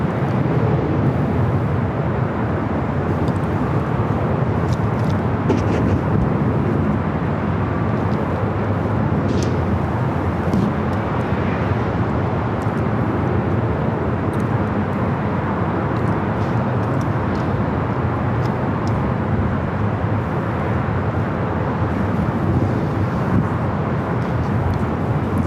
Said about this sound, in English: Arrival is a flight coming from Minneapolis, Delta Airlines flight 2119, a 737-900 ER.